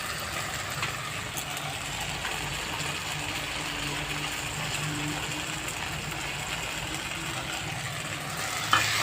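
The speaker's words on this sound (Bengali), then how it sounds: "এবার ডালগুলো দিয়ে দেবো।" Lentils (dal) tipped into a hot pan and stir-fried with pointed gourd make a steady, close sizzle with faint scraping throughout, ending in a brief clank of utensil on metal; no one speaks.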